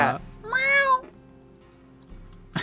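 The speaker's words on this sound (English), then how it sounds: "just in time for the cat to yell into the mic" A cat lets out a loud, drawn-out yowl straight into a microphone, rising and falling for about half a second before cutting off; the sound is close and up front during an online tabletop game session, with quiet room noise before and after.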